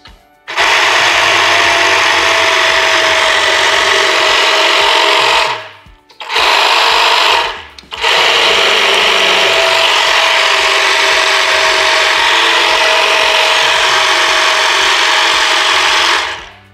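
Firman FTH24V battery-powered tea harvester, also used as a hedge trimmer, running with its lock button held: a loud, steady mechanical buzz of reciprocating blades, cut off briefly twice and restarted, with no talking.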